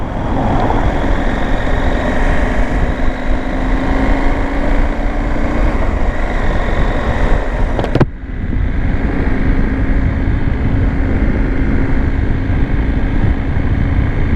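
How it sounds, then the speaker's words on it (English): A liquid-cooled parallel-twin Husqvarna Norden 901 motorcycle drones steadily while riding, its engine hum holding a constant pitch under wind roar, broken by one sharp transient about midway before the drone resumes. "no shortage of power whatsoever from this liquid cooled parallel twin, chucking out over 100 brake horsepower"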